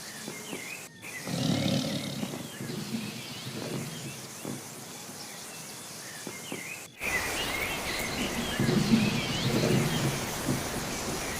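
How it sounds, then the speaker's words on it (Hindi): Heavy rain pours steadily over a village in an animated Hindi cartoon, with deep rumbling thunder building beneath the downpour and a sudden louder wash of rain partway through. "बारिश बहुत ही तेज हो रही थी।"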